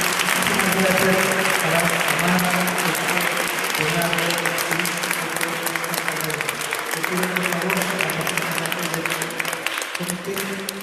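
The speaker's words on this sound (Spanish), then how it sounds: "Un aplauso, por favor, para" An audience applauds at a journalism week event, with loud, sustained clapping from many hands filling the whole stretch while voices murmur and talk underneath.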